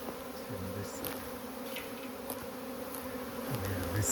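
A swarm of bees hums in a soft, continuous drone, faint and steady, with a few louder low buzzes as individual bees pass close by.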